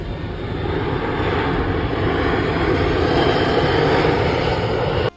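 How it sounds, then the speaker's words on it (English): Large airplane flying low overhead as it comes in to land: a loud, steady aircraft engine roar holding close and constant for several seconds before cutting off abruptly, no voices. "seeing a huge plane making a landing just right above you"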